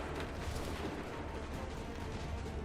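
Massed musket volley fire in Assassin's Creed 3, a dense, continuous rumbling roar of shots with booming low end, loud and steady throughout.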